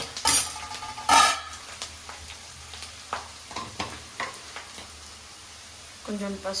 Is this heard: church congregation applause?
no